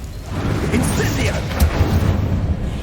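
A fire spell cast in the video game Hogwarts Legacy, a dense roaring whoosh of flame bursting over steady low rumble and scattered combat effects, sustained for a few seconds.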